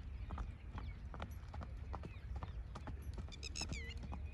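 Horse hooves clip-clop in a quick, even rhythm during single-foot gait training, close and fairly faint, with faint chirping bird calls near the end.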